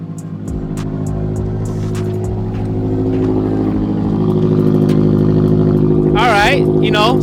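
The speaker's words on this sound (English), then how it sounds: "let's get a cold start on the new prototype axle back" A 2022 Subaru WRX with a prototype axle-back exhaust fires up from cold, settling into a loud, deep, steady idle up close, with a couple of sharp revs near the end.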